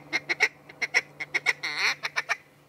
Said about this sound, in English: There's a wood duck.